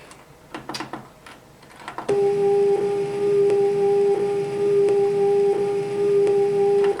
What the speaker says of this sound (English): It's an okay loop. You can still hear a bit of a click.